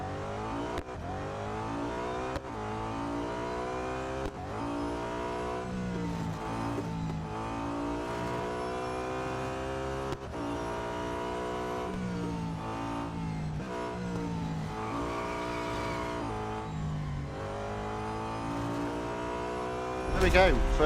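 Race car engine in the Real Racing 3 video game during an autocross race, revving continuously with rising and falling pitch as it shifts through gears. Steady and fairly loud throughout, with a sharp surge at the very end.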